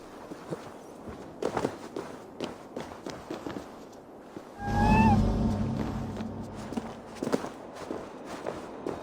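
A cat meows a few times in Assassin's Creed Valhalla, one clear mid-clip call rising over rhythmic in-game footsteps and movement.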